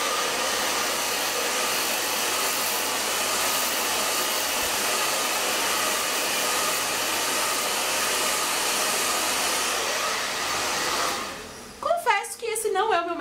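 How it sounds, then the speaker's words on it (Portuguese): A hair dryer blows with a loud, steady whoosh for about eleven seconds, then switches off and a voice speaks briefly. "aí você liga o secador e joga o jato aqui,"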